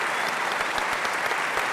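Audience applause for a rugby preview panel at a live Six Nations event: steady, dense clapping from a crowd, fairly close and continuous, with no voices over it.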